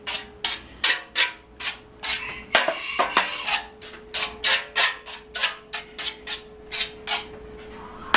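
Short pressurized bursts of cooking spray hit bread loaf pans, a quick rhythmic series of about a dozen close, crisp hisses with brief gaps, one longer rattly spray near the middle.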